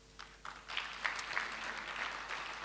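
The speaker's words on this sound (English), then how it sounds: "Mr. President does deserve another round of applause" Audience applause for the President at a SAICE ethics gathering, a dense patter of clapping that starts with a few scattered claps and swells into steady, moderately loud applause filling the room.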